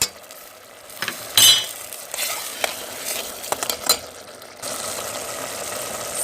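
Ginger garlic paste fries in a pot for a kofta biryani, giving a steady sizzle with bursts of scraping and stirring near the middle, then a louder, even frying hiss toward the end.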